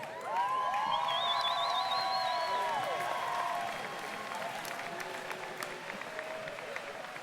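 At a 2019 commencement ceremony, a large crowd applauds the graduates in a dense wash of clapping, loud at first and then easing, while sustained organ or brass tones play over it.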